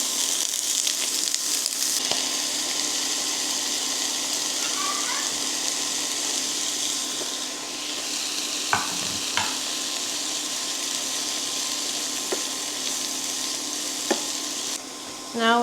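Browned sausage and added vegetables sizzling in a pan, a bright continuous hiss close up with occasional scrapes and knocks of a utensil, no talking.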